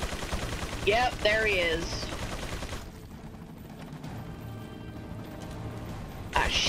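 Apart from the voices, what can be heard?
gunfire from an enemy shooting, Resident Evil 4 video game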